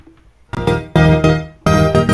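A modular synth filter pinged by gate pulses from a Turing Machine, giving a few loud, sharp, resonant tonal hits at irregular intervals with no talking over them.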